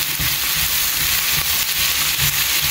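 Onions fry in hot oil on a gas stove for brinjal bharta, a continuous close sizzle and crackle with faint scraping and stirring knocks throughout, no voices.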